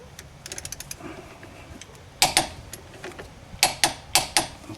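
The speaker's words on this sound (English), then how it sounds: "I've got my torque wrench and I've set it to the proper specs for this particular vehicle." Torque wrench ratcheting on a strut bolt of a 2001 Dodge Caravan Sport clicks in quick light runs, then gives several louder separate ratchet strokes, close and fairly quiet.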